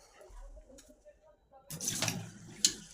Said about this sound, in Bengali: এটাকে একটু আমি জল দিয়ে ধুয়ে নেবো, হালকা করে ধুয়ে নেবো